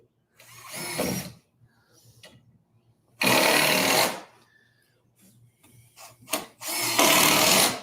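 A power drill drives screws during renovation of a 1974 house, heard as three loud, close bursts of whirring, each lasting about a second, separated by quieter handling noises and faint clicks.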